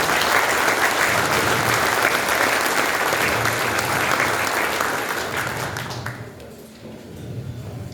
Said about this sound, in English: give them a round of applause for the commitment that they give to the church